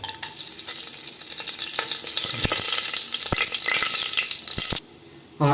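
Bay leaf, cinnamon, star anise and cloves fry in ghee and oil for a vegetable biryani, giving a steady close sizzle with scattered crackles and stirring clicks, then a brief drop near the end before the sizzle returns.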